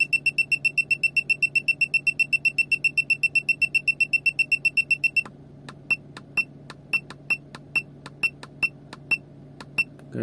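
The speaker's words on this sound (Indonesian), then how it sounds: "nanti ada peringatan ya, alarm berbunyi" An OBD2 HUD P6 head-up display in a 2014 Toyota Avanza sounds its speed alarm as a rapid, steady run of sharp electronic beeps that changes to slower, irregular beeps, over a low cabin hum.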